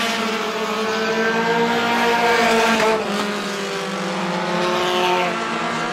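Short-track heat race at Star Speedway: a pack of Roadrunner race cars roaring around the oval, with continuous loud layered engine drone and shifting pitch as cars pass.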